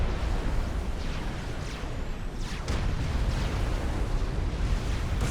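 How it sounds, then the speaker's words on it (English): A battleship artillery barrage in Supreme Commander, a dense continuous roar of overlapping booms and rumbling blasts that stays loud and steady throughout. "Look at this enormous firing battery here of battleships."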